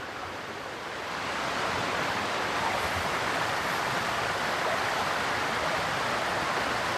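Murky river flowing past a campsite, a steady broadband rush of water that swells in the first second and then holds constant and close.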